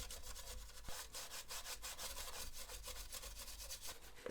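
Brisk, rhythmic scrubbing of plastic PS4 Pro console parts with a makeup brush and isopropyl alcohol, steady rasping strokes repeating close up without any talk.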